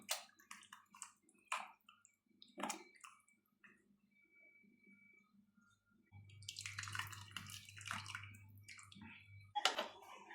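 Tamarind water is poured into a simmering curry leaf kulambu, with a few soft drips and clinks at first, then a brief wet splashing pour with a low hum, followed by a final splash.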